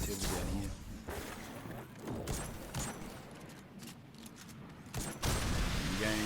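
Rapid gunfire bursts from shooting a crystal in the video game Destiny, set in a Legend Lost Sector, loud and repeated with brief gaps against a busy game mix.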